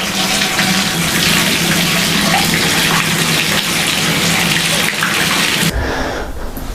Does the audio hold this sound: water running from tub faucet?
yes